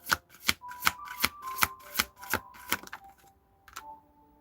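Tarot cards are shuffled in a quick run of crisp riffling slaps, about a dozen close snaps that slow and trail off into a few softer taps.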